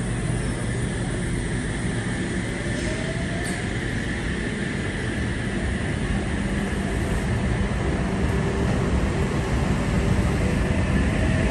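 A train waits at a railway station platform. It gives a steady, loud, continuous rumble and hum with no breaks and no voices.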